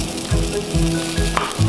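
Yellowfin tuna sears in a hot, dry cast iron pan with no oil, giving a steady close sizzle with periodic low thumps or pops about every half second.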